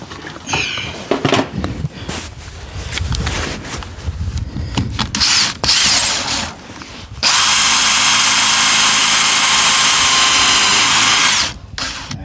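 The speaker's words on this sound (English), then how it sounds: "drill our other hole." A power drill bores a hole to mount exterior lights on a horse barn, starting with short, uneven bursts and then settling into a loud, steady, close whine that holds for several seconds before cutting off.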